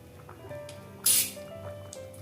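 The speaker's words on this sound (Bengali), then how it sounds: "সামান্য একটু ঘি দিয়ে দিচ্ছি" Ghee goes into simmering moong dal cooked with banana stem and ridge gourd, bringing a brief bright hiss and splash over the quiet bubbling of the pot.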